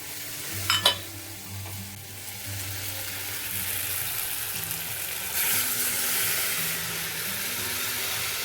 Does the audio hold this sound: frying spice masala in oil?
yes